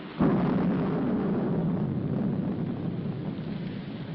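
Thunder before rain comes in as a deep, broad rumble that starts suddenly and holds loud and steady for about four seconds, with no voices over it.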